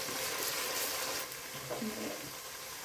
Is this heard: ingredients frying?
yes